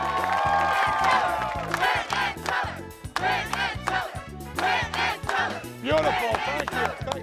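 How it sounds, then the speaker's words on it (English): An audience at a Penn & Teller magic show cheers, whoops and claps in loud, surging waves, with many voices shouting together. "you are applauding like you've never applauded before"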